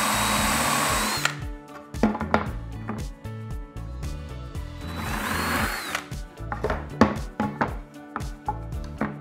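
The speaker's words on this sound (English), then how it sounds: "I'll start with a 3/8-inch Forstner bit and drill a hole" A power drill with a 3/8-inch Forstner bit whirs into wood in two loud bursts, one at the start and one midway, with music playing steadily underneath.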